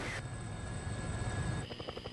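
Vietnam-era Huey helicopter coming in to land, a faint steady rotor and turbine drone that holds, then shifts into a choppier, pulsing beat near the end.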